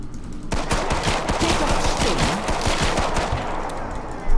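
Rapid pistol and weapon fire in the zombie shooter Killing Floor 2, dense overlapping shots and impacts going on steadily for several seconds, loud and close, with a sharper burst at the very end.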